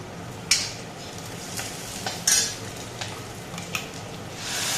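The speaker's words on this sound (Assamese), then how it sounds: "ভজা কৰি আছোঁ।" Ginger-garlic paste fries in a hot pan with a steady soft sizzle, broken by a few sharp clinks and scrapes of a spoon stirring against the metal.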